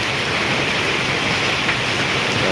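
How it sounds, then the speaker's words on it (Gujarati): Heavy rain pours steadily in Surat city, a dense, even hiss with no pauses or voices. "ધોધમાર વરસાદ ચાલુ છે"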